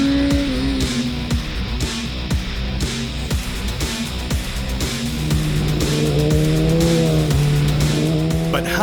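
A BMW HP4 Race motorcycle at high revs on a race track, its engine note rising and falling through gear changes, loud and close with a sustained whine building late.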